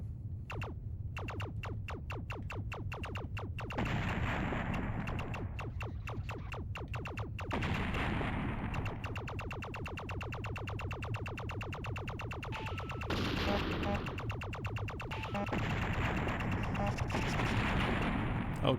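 Rapid bursts of gunfire rattle against an alien command center in the 3DO game Shockwave, dense repeated shots under a steady engine drone, with short pauses between volleys.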